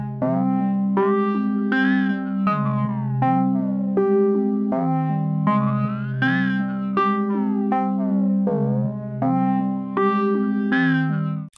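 A synth pad melody from the Electra X preset in FL Studio, made for a Chicago drill beat, plays loud and unaccompanied by talk, its sustained chordal notes shifting in a repeating pattern.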